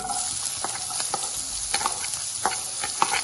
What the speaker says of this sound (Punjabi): ਇਹਦੇ ਵਿੱਚ ਆਪਾਂ ਹੁਣ ਪਿਆਜ਼ ਭੁੰਨਣਾ